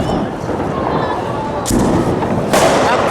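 Firecrackers burst during a Diwali celebration, with two sharp, loud bangs close together against background voices.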